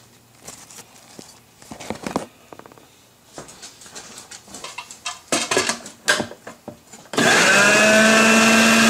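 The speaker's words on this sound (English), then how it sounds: "We got our pumpkin, nice pulp in the food processor, so we'll give that a nice spin." Roast pumpkin pulp in a food processor, preceded by scattered clinks and handling knocks before the motor kicks on suddenly near the end, a loud steady close whirring spin that runs to the finish.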